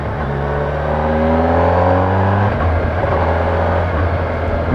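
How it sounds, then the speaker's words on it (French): A Kawasaki Versys 1000 SE motorcycle accelerating hard, its engine note climbing loud and close through rising pitch sweeps, with quick quickshifter gear changes breaking the climb before it settles into a steady drone. "Il y a le shifter d'ailleurs que je vais essayer."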